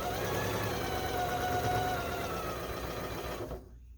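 A sewing machine fitted with a quarter-inch foot stitches quilt fabric in a steady, close whirring hum that runs continuously, then stops abruptly near the end.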